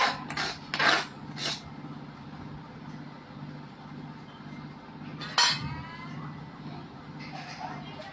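Pots and utensils clinking while curry is cooked at home: a few bright metallic clinks and taps, spaced apart and close by, over a steady low hum of background noise.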